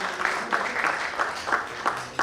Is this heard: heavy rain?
no